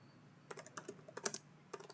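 Keys on a computer keyboard click in scattered bursts as someone types a line of Python code, with light, crisp taps and short pauses in between and no talking.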